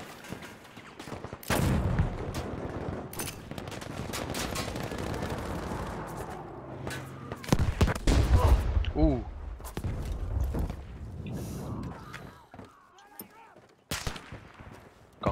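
Gunfire in the World War II shooter Battlefield V, with sharp bursts and scattered shots spread through a busy battle mix and a voice talking over parts of it.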